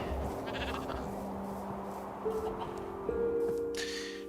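Minecraft sheep bleat in the video game, a couple of short tonal calls rising over a steady droning game background, moderately near, with no speech.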